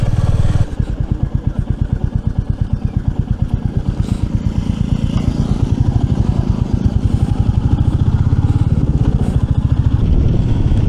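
A motorcycle engine thuds steadily close up, its rapid pulsing beat running nonstop as the bike rides over a rough, uneven road in Purulia.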